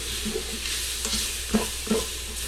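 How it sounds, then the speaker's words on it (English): Birria ingredients stirred in a pot with seasonings, a steady sizzling hiss with soft scraping strokes and a few light knocks against the pot, close and with no talk. "And stir all this together"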